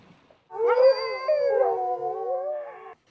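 Sled dogs howl together in a sustained, wavering chorus of overlapping pitched voices, rising abruptly after a brief quiet and holding for about two and a half seconds before cutting off, fairly close and loud.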